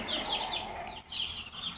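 Young chicks peep softly and steadily in a brooder, a faint cluster of high chirps running throughout with a brief dip midway.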